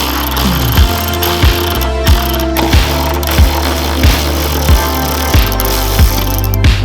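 A hand ratchet working loose the driveshaft bolts on a BMW E36 M3, loud and close, its clicking pawl repeating in a steady rhythm of strokes about every two-thirds of a second.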